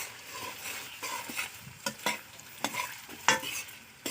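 Onions frying in oil for dum pulao are stirred in a pan, with a steady soft sizzle broken by irregular scrapes and clacks of the spoon against the pan.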